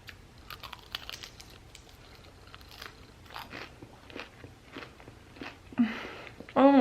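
Close crunching and chewing of thick potato chips, a run of crisp bites and munching with a louder crunch near the end, over soft background noise.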